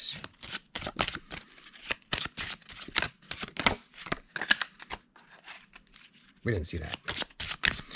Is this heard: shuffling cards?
yes